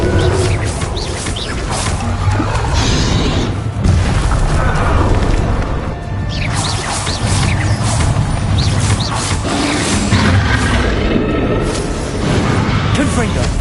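Confringo spell blasts burst again and again in a Hogwarts Legacy battle, loud booming explosions layered over dense, continuous combat noise with voices calling out through the fight.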